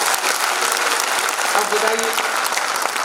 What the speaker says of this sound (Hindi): कितना फर्क पड़ गया पहले की ताली अभी की ताली में